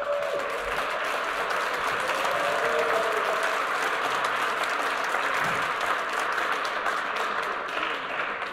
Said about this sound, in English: You'll have to keep the clapping going because she's got about 10 more steps.